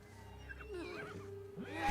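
A horse whinnies in The Last of Us Part II, its wavering, pitch-bending neigh rising and falling clearly above a low game ambience, followed by a second short whinny.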